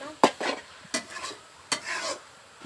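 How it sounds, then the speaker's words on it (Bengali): Bottle gourd bhaji with egg is stirred and fried in a pan: a few distinct scraping strokes of a spatula rise over a soft, faint sizzle, with quiet gaps between them. "আমি রান্না করতে এইভাবে ভাজতে থাকবো"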